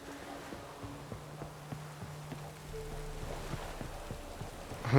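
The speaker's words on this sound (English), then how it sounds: "Looks like rain." Steady light rain patters in The Witcher 3, with a soft hiss and scattered drops plus faint low hums and a brief louder burst at the end.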